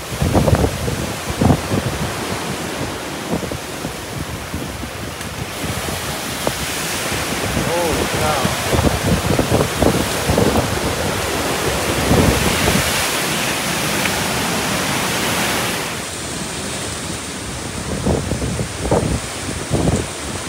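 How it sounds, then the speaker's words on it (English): Strong wind and rain from a severe thunderstorm buffet a bus parked among tall 40 to 60 foot trees, a steady loud rushing with gusty swells and scattered crackling hits throughout. "Got some crazy storm coming in."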